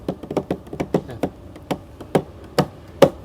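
A voice or hands mimic a right-foot bass drum double stroke from a metal drummer, giving a series of dry, close tapping hits in uneven pairs and clusters, with no words.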